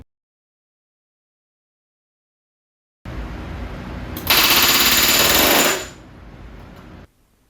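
A pneumatic rivet gun bucks rivets on a Vans RV-14 horizontal stabilizer: after silence, a hiss of air builds into a loud, close burst of rapid hammering lasting under two seconds, then trails off into a low hiss.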